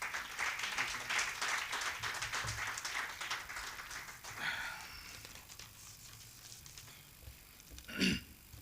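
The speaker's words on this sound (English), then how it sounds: "Give him a round of applause" Audience applause at a social entrepreneurship symposium, a dense patter of many hands clapping at moderate level that thins out midway, followed by quieter room sound and one brief burst near the end.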